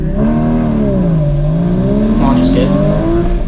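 A Porsche GT4 (981) launches at an autocross start, its engine revving hard with a rising, wavering pitch and loud throughout, a brief tire chirp or whir near the end, with some talk inside the car.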